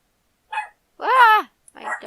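A pet dog gives a few close, sharp barks indoors: a short yip, then a longer, louder bark, then another brief bark, with silence between them.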